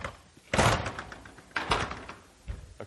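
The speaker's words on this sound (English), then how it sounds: "I'm going to close this door" A classroom door is pushed shut, several dull thuds and bumps spaced about a second apart, close and moderately loud in a quiet room.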